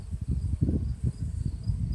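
Honeybees buzz around an open beehive, giving a close, dense, low hum that swells and dips in uneven pulses as the insects fly about.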